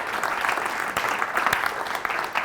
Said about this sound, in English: Let's give them a round of applause back there.